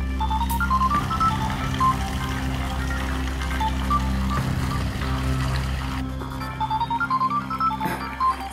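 A telephone ringtone plays as a short repeating electronic melody of bright tones. It sounds at steady moderate loudness over a continuous low hum and faint water-play background at an outdoor spot.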